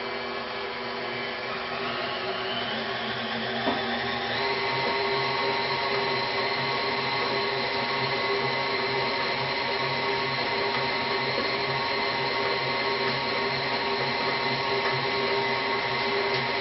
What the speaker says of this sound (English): Turn your mixer back down so it doesn't go all over the place